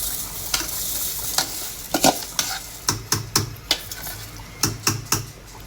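Washed pulao rice tipped into a pot of simmering chicken gravy for biryani, a hissing sizzle broken by a run of sharp metallic clanks and scrapes from a spoon against the pot, close and clear with no voices.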